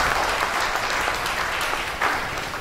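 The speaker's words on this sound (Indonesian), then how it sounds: "Ayo tepuk tangan yang meriah buat Tuhan." Church congregation claps enthusiastically in praise at an anniversary service, a dense, steady wash of applause filling the room for a couple of seconds, with a slight swell near the end.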